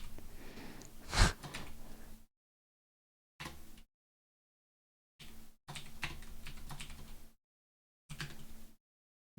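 Quiet, irregular key clicks from a computer keyboard come in short bursts separated by silent gaps, with one louder breath or snort near the start and no talk.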